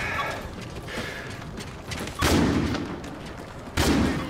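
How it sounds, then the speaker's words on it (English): Gunfire in a first-person shooter video game, two loud sharp bursts standing out over a busy, noisy in-game background, with no talk. "This kid's following me, constantly shooting his gun."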